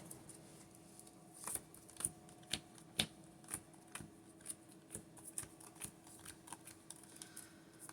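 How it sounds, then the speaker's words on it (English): A Branded Despia trading card deck is pile shuffled, cards dropped one by one onto piles in a steady rhythm of soft, crisp taps over a quiet room hum. "I'm going to go ahead and pile shuffle again."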